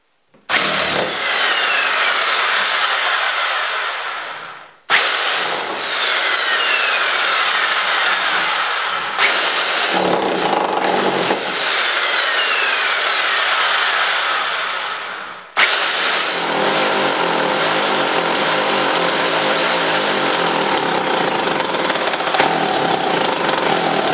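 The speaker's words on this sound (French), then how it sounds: "Les trous ont été percés donc à la dimension de la cheville, à la bonne profondeur." A power drill bores holes into a wall for wall plugs to hang a shelf, a loud continuous grinding roar in several long bursts separated by brief pauses.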